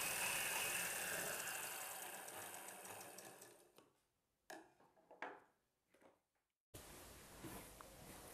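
A sewing machine runs steadily, stitching a folded hem on a shrug, then stops and starts in short bursts before running on again, close and clear with no talk.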